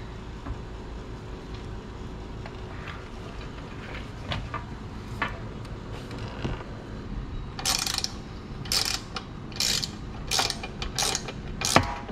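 Close, dry clicking bursts of a ratchet spanner tightening the mounts of a 30L San Hima pressurised water tank on a roof rack, sparse clicks at first, then quick clustered ratcheting runs over a low steady background.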